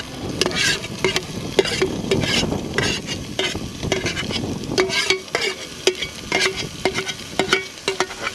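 Ham fries in hot olive oil in a pan, a steady close sizzle broken by repeated scraping knocks of a utensil stirring and clacking against the pan, with no talking.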